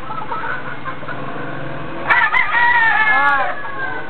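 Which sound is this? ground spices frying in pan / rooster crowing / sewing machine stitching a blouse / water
rooster crowing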